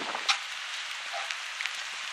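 Steady rain falls at a golf course, a soft even hiss of drops with a few faint patters and taps, and no voices.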